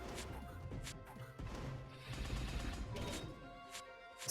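Explosions in the video game Siralim Ultimate, a run of sharp, crashing blasts and thuds that follow one another in a dense, busy stretch with a steady layer of game sound underneath.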